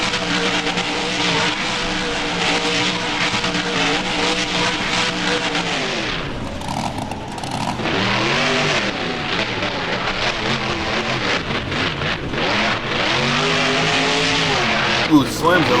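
Monster truck engines roar continuously in the BeamNG video game at a Boneyard Bash freestyle event, loud and near with rising and falling revs and a brief dip midway, under a commentator's talk.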